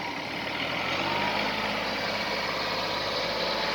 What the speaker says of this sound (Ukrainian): трактор розвертається в одну сторону,